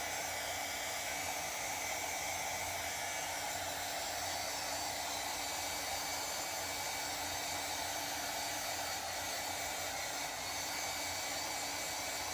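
A hair dryer blows steadily to dry chalk paste on a craft transfer, giving a constant, close whooshing hiss that holds without a break the whole time.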